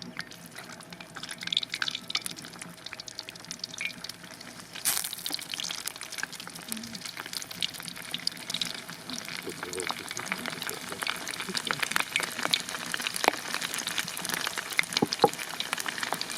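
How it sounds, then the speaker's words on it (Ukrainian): Sausages frying in oil outdoors for a breakfast in nature, a soft continuous sizzle with scattered pops and crackles, fairly close and steady throughout. "І в ці самі олії обсмажую наші серделічки."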